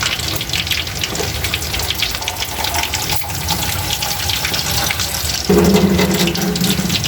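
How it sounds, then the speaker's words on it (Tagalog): Tap water runs steadily into a pan while fried chicken wings are being cooked, a continuous close splashing gush that gets louder and deeper near the end as the pan fills. "Ayan, nilagyan na po natin ng kaunting tubig."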